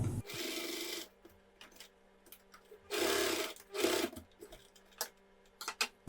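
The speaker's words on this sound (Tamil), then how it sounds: "இந்த எலாஸ்டிக் வந்து நல்லா ஸ்ட்ராங்கா இருக்கிறதுக்காக ஒரு 2-3 ஸ்டிச் நம்ம வந்து ஸ்டிச் பண்ணிக்கலாம்" Sewing machine stitching elastic into the waistband of a women's cigarette pant, heard in two sustained runs of rapid stitching separated by quiet gaps, then a few short clicks and brief bursts as the fabric is adjusted.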